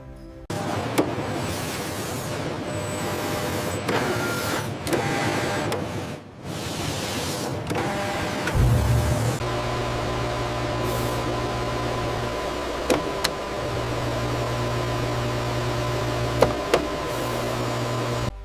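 An electronics pick-and-place machine in a drone factory places components, giving steady whirring and clattering mechanical noise with faint clicks and a low hum that shifts partway through, with no talking.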